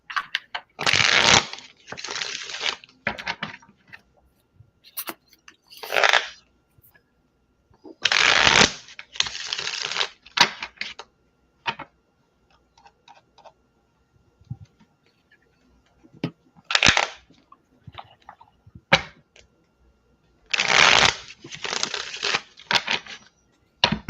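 Tarot cards are shuffled for a reading in repeated loud riffling bursts, each lasting a second or two, separated by quiet gaps with faint handling noises.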